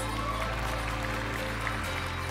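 Continuous crowd applause for the judges at the Miss Universe 2015 preliminary pageant, a dense, even wash of clapping from a large arena audience over a low hum, with no speech.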